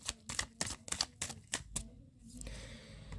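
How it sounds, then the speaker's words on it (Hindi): Tarot cards being shuffled by hand: about eight quick, crisp papery bursts in an uneven rhythm, followed by a softer, continuous rustle, close and fairly quiet. "Last shuffle."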